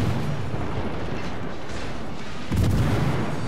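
Heavy naval guns firing in World of Warships, with a broad sustained roar that surges louder near the end, dense and booming rather than sharply separated shots.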